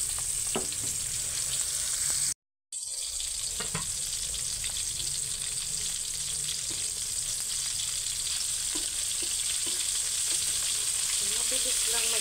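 Boneless milkfish (bangus) fries in a pan of oil, giving a continuous, even sizzle with small crackles throughout, broken by a brief dropout of sound early on. No one speaks.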